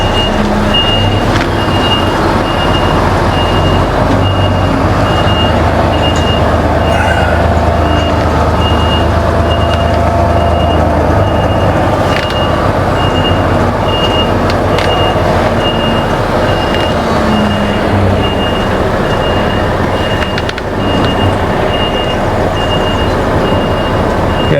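A truck's proximity sensor beeps steadily at a regular rhythm while the truck creeps along at low speed. A loud, constant engine and cab rumble runs underneath throughout, and no one speaks.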